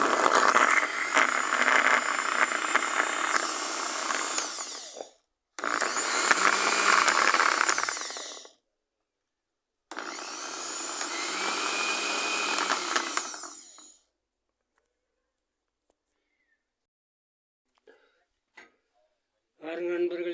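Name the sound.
electric mixer grinder grinding fish curry masala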